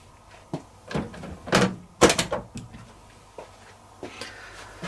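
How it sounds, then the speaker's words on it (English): The door of a Miele T1 Ecospeed heat pump tumble dryer is opened, giving a few close clicks and knocks as the latch releases and the door swings, with quiet gaps between them. "Then we open the door, of course."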